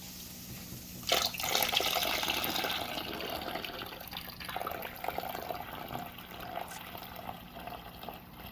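Top-up water is poured into the filter of a 55-gallon planted aquarium, a steady splashing trickle that surges at the start of the pour and then settles into a quieter, continuous flow.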